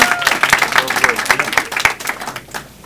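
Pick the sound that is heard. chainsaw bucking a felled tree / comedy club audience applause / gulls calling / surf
comedy club audience applause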